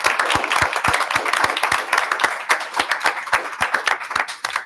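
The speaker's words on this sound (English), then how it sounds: "So let's just give her a round of applause" Attendees at a school board meeting give a retiring board member a round of applause, close and loud, with distinct individual claps in a quick rhythm over a steady crowd patter.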